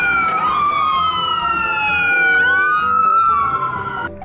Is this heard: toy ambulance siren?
yes